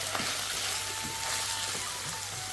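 Onions sautéing with a pinch of salt in a clay pot over a low flame while a salmon fish curry is prepared, giving a steady soft sizzle and crackle throughout with a faint low hum beneath and no talk.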